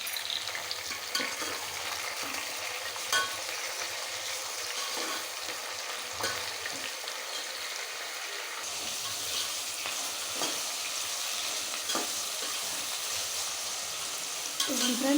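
Tomatoes and onion fry in a pan for fish curry, a steady broadband sizzle running throughout with occasional stirring scrapes and clicks, close and fairly loud, with no voices.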